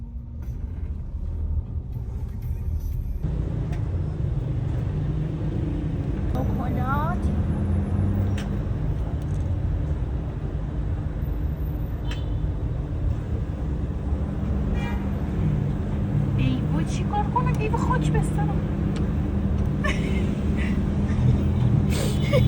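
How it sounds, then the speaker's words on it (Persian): Continuous rumble of heavy city traffic on a Tehran street, with engines droning steadily and a few car horns tooting, while someone speaks over the noise. "همیشه خدا هم که ترافیکه، یعنی شما ترافیک نباشه این تهران باید تعجب کنین"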